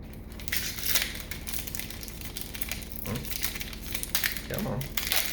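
Crinkly plastic wrapper of a Magic: The Gathering Iconic Masters booster pack being torn and crumpled, a continuous close rustle with sharper crackles near the end and brief low voice sounds.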